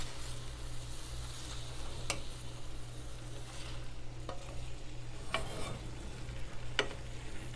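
Seasoning, chives and parsley being stirred into a Japanese curry with udon noodles, a soft continuous sizzle and scrape with a few sharp utensil clicks against the pan, steady and close over a low kitchen hum.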